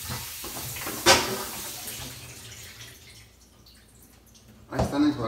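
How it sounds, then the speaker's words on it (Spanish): Pig's feet rinsed under a running kitchen tap for menudo blanco, water splashing and trickling close by with a sharp clatter near the start and another burst at the end, speech faint beneath. "Nos vamos a enjuagar la patita para que no digan que no las enjuague."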